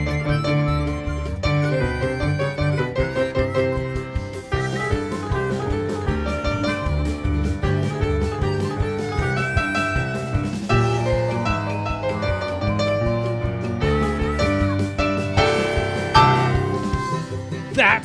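A cartoon theme, played at full speed as a lesson preview, a dense, continuous run of bright tonal notes with no pauses and no talking.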